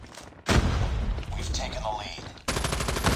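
Gunfire in the video game Call of Duty, dense loud bursts of rapid shots and booming impacts filling the clip, with a sharp new volley near the end.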